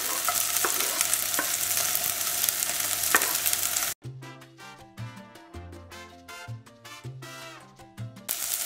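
Green chili goes into a hot pan with fried ginger and garlic, a bright continuous sizzle that breaks off into sharp intermittent stirring scrapes and pops of oil.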